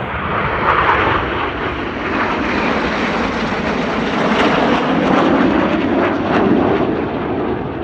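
Red Arrows jets performing the rollbacks manoeuvre at the Cosford Airshow, a loud, continuous roaring jet engine noise that swells and holds steady overhead with no pause.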